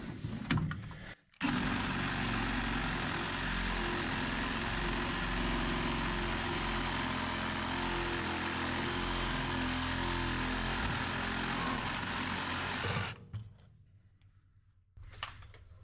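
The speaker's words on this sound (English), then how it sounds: "I have a brand new Milwaukee steering column tool I'm going to employ right now." A Milwaukee steering column tool runs with a loud, steady mechanical whir for about twelve seconds, up close in a garage during a 1952 Chevy body swap onto an S-10 chassis, starting and stopping abruptly.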